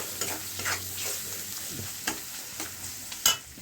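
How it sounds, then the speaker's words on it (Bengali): Spice paste sautéing with salt and turmeric in a pan, a steady close sizzle with repeated soft scrapes and clicks of a spatula stirring, alone without voices. "নুন হলুদ দিয়ে মশলাটা আরও সুন্দর করে কষাবো।"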